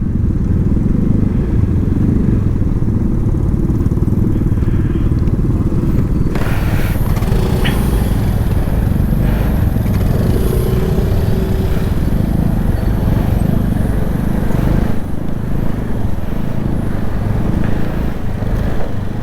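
A motor scooter engine runs steadily and loudly up close, with a low continuous rumble and some light clattering over it.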